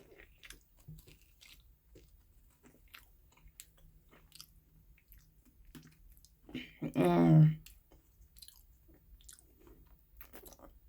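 A thin, crispy lemon cookie dunked in oolong tea is bitten once, a short loud crunch and chew up close, with quiet room tone around it and no talking.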